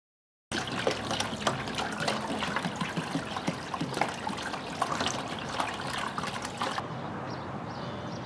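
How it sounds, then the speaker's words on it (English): Water pouring and trickling into a two-stage indirect DIY evaporative air cooler, a steady splashing stream close by that runs for several seconds, then softens to a quieter trickle near the end. "now we got 4 gallons of water in there"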